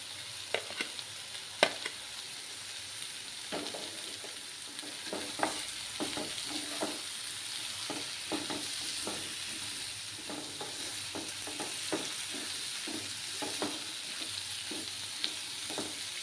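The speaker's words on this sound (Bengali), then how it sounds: "এবার আমি রসুন বাটাটা দিয়ে দেব" Garlic paste fries in a hot pan for a dry fish, potato and brinjal dish, giving a steady close sizzle broken by repeated scraping stir strokes and occasional utensil taps.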